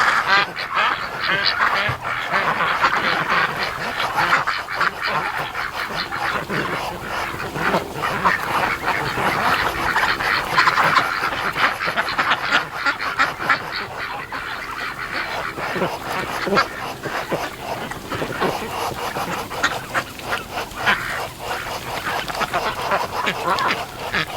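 A breeding drake calls repeatedly among a flock of ducks outdoors, its rasping quacks and honks steady and fairly close over the busy chatter of the other birds.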